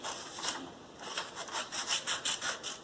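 Scissors snip and rasp through paper to roughly cut out a drawn star, a run of close, quick rhythmic cutting strokes that grow steadier toward the end.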